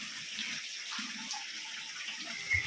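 Water drips and trickles inside a Ramling temple, a steady watery wash with soft repeated low plops, ending in a louder splash.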